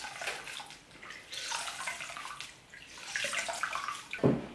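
Running water splashing as hands rinse a face at a sink, an uneven, fluctuating wet rush that is soft and close, ending with a brief louder splash.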